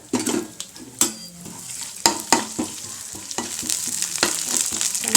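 Cumin, dried red chillies and moong dal crackle and sizzle in hot oil for a banana-flower stir-fry, a loud close sizzle broken by repeated sharp spatula taps and stirring scrapes against the pan.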